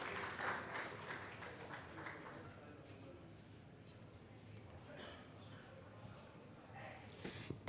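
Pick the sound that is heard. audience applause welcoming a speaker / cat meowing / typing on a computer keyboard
audience applause welcoming a speaker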